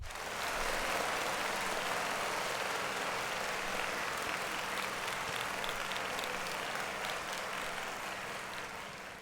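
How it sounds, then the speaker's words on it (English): A faint, dense, steady wash of applause from a crowd, continuous for about nine seconds and tapering slightly at the end, with no talk over it. "Clap it up for that."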